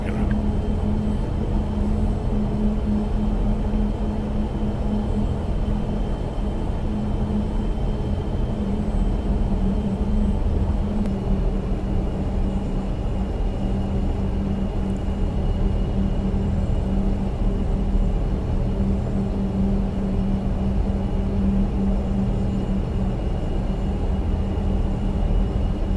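The engines of a C-130 in X-Plane 12 drone steadily while taxiing toward the hold short line at Dallas Fort Worth, a constant loud low rumble with a faint tonal hum, unchanging throughout and without speech.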